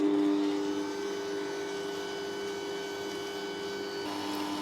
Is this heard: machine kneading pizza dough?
yes